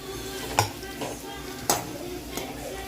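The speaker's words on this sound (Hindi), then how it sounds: "और इधर हमारा प्याज भी भून के धीरे धीरे हो चुका है" Onions frying in a pan over a village cooking fire, a soft steady sizzle broken by a few sharp clinks and scrapes of a utensil against the pan.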